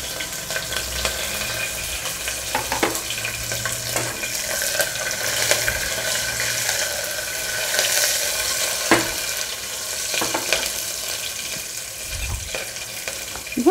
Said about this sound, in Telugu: కరివేపాకు వేసుకుంటున్నాను. ఇప్పుడు పచ్చిమిర్చి